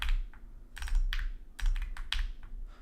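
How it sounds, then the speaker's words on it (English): Close-up typing on a computer keyboard: bursts of sharp, clacky keystrokes in quick irregular runs, with brief pauses between them. "What does my keyboard sound like?"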